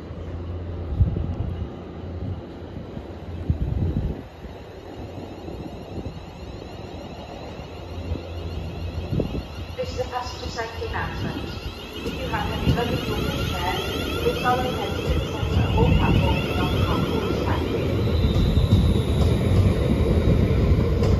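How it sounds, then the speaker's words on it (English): British Rail Class 350 unit 350109 pulls away from platform 5 at Birmingham International on a London Euston service, a steady rising rail rumble with wheel and motor noise building over the clip. "as we've off platform number 5 at Birmingham International, will be your slightly delayed 11:16"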